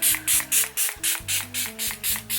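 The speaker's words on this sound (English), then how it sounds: "I'm gonna spray my face with the Milani" Milani setting spray mists onto a face in a rapid series of about ten short, close, hissing pumps, evenly spaced and loud, with no talking.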